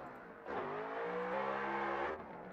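A Ford Mustang RTR competition car's engine revs hard during a run, a strong tonal roar that climbs in pitch, holds briefly and then cuts off after about a second and a half.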